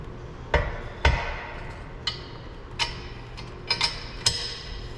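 Carriage bolt and 3/8 washer slid through a metal slot on a DIY disc sander build: sharp metallic clicks and taps in an irregular series of about seven, close and fairly clear over a quiet hum.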